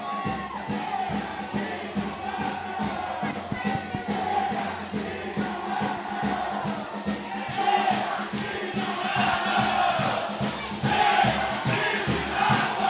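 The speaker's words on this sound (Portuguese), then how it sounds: "A torcida grita eliminado" Football crowd at a Sul-Mato-Grossense state championship match, CREC versus Aquidauanense, chanting in unison, a dense roar of many voices that grows louder toward the end.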